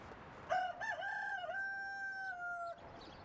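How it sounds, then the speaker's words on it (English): A rooster crowing in the medieval farming game Medieval Dynasty, one clear cock-a-doodle-doo rising and holding for about two seconds, fairly near and alone over quiet ambience. "Oh, 2 roosters."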